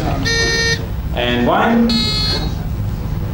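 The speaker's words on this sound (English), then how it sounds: "So let's check your buzzers. Can we have a test?" Quiz show contestant buzzers tested one after another: two bright electronic buzzes, each under a second, with a spoken name between them in a studio setting.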